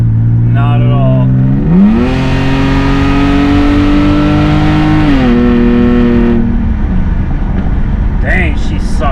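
A BMW 325xi engine pulls steadily while driving, its loud tone rising as it accelerates, holding a sustained drone, then easing off, with a voice talking near the end.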